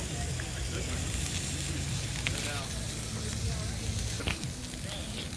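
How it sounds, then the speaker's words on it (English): Ribeye steaks sizzle loudly and continuously over a crackling campfire, a dense hiss filling the whole stretch, with faint voices in the background. "Cooking up some ribeye steaks here on the campfire"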